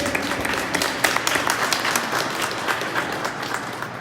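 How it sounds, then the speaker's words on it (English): An audience at a live show applauds and claps for a guest, with a dense patter of many hands at moderate loudness held steadily for several seconds. "Will y'all give Miss Taylor a clap, please?"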